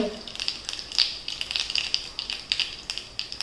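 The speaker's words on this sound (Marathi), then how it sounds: "तेल आपलं गरम झाले मोहरी हिंग" Mustard seeds and asafoetida sizzling in hot oil in a pan, a crackling run of small, close pops and spits over a steady frying hiss.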